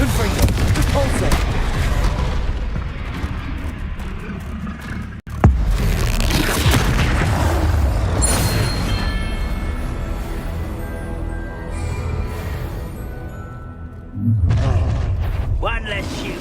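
Confringo explosive spells from Hogwarts Legacy blast in a dense run of loud booms and bursts over steady game sound, with a voice talking throughout.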